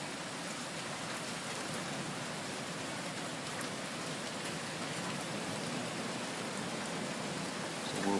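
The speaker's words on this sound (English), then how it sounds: "Starting to rain." Steady rain patters across a tent fabric during a thunderstorm, a dense, even hiss of drops with no pauses that holds at a moderate level throughout.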